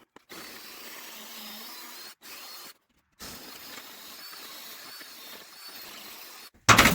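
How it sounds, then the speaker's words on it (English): A power drill runs steadily while boring a pilot hole in wood for a duck coop, with a continuous close whir broken by two brief pauses and a sharp clatter at the very end. "Of course, a bit this size needs a pilot hole."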